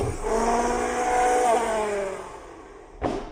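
A BEZGAR HM101 1:10 scale 4WD remote control truck drives outdoors, its small electric motor whining steadily with rising and falling pitch, then a sharp brief knock near the end as it hits something.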